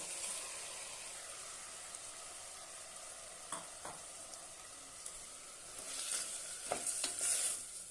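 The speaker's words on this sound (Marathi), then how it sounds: "मस्तपैकी परतून घेऊया आता यामध्ये आपण तांदूळ घालूया" Rice and sprouted moth beans stir-fry in a pan with a continuous hissing sizzle, joined by occasional scraping strokes that grow busier and louder toward the end, close up with no speech.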